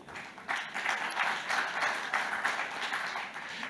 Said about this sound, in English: Thanks for giving them a warm round of applause.